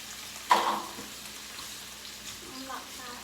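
Shrimp hit hot oil with a sudden sizzling burst, then settle into a steady, softer sauté crackle for a few seconds with no talking.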